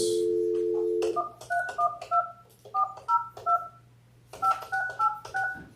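Touch-tone telephone dialing during a county board meeting: a dial tone, then a quick series of distinct keypad beeps in several bursts, clear and close with no talking.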